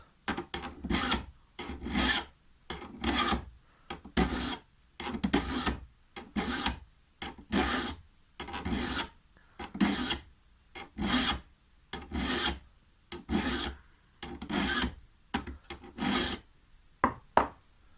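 Hand file drawn in long, even strokes across hedge trimmer blade teeth, a close, loud rasping repeated in a steady rhythm of about one stroke per second with short pauses between.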